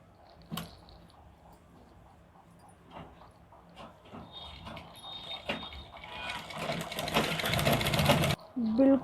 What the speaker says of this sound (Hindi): अब हम इसे ऊपर से मशीन चलाएंगे एक बार।